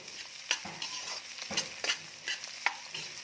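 Onion and green chili frying in a pan for a boiled potato bhaji, with a steady soft sizzle broken by several scraping stirs of a spoon at a fairly even pace, nearby and with no talking.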